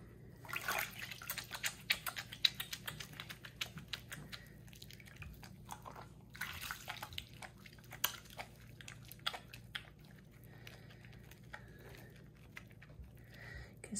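A homemade cold process banana soap bar is lathered with water by hand, giving faint close-up squelching, dripping and sticky bubbly crackles in an uneven rhythm, with no voice.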